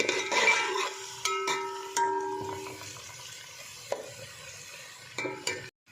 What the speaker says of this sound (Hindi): प्याज को गोल्डन होने तक फ्राई कर लेंगे।